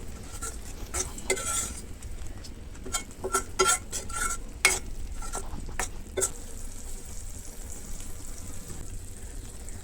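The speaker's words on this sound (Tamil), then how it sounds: "இப்போ இந்த மசாலாவும் முட்டையும் நல்லா மிக்ஸ் ஆகிற அளவுக்கு கலந்து விட்டுக்கலாம்." Boiled eggs are stirred into frying masala for egg thokku: a light sizzle beneath irregular spoon scrapes and metallic clinks against the pan, close and moderately loud, with no talking.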